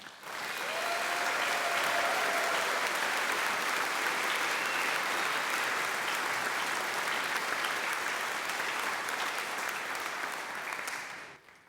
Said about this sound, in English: thank with a round of applause the Woldson staff